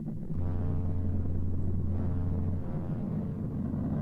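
A NASA spacecraft recording of the planet Mercury converted to sound plays as a low, steady rumbling drone with a sustained hum and faint static-like texture, continuous and alone.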